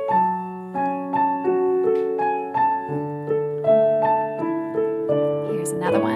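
A piano plays a piece at a gentle pace, with small ornamental grace notes leading into the melody over sustained low chords, clear and close with no talking.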